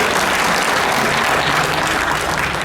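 Convention crowd at a libertarian party gathering breaks into applause, a thick unbroken patter of many clapping hands heard alone, steady and moderately loud across the whole stretch.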